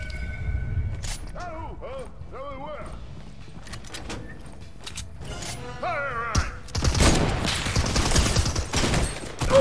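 Gunfire in a tactical shooter video game: quick bursts of shots sound early, then a denser, louder volley near the end, with a player talking between the shots.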